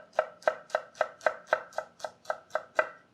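Knife slicing an onion on a cutting board while preparing pork chop with cactus pear mostarda, eleven evenly spaced crisp chops in a steady rhythm, close and clear with no talking.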